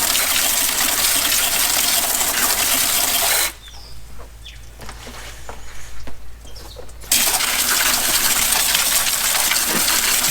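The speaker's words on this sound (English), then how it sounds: "So if I sit here and spray down all these coils with a jet spray," A jet spray of water hisses steadily onto the ignition coils in a car engine bay during an engine wash, loud and continuous, briefly dropping to quieter spattering before the strong spray resumes.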